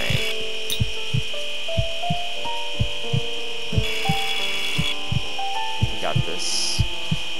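A bone saw cuts through ribs in the surgery video game Surgeon Simulator 2013, giving repeated rhythmic rasping strokes, roughly one every third of a second, over a steady electronic hum and game tones.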